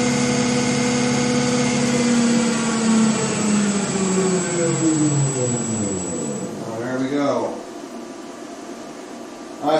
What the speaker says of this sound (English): the center prop shaft mount is definitely spinning at a fairly high rate of knots at this stage